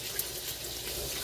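Rinse water pours off washed, cut-up cabbage into a sink in a steady, faint splashing stream with a brief splash near the start and no talking.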